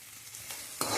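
Onion and tomato fry in a pan for masala Maggi, giving a close, steady sizzle with a short burst of louder crackling near the end.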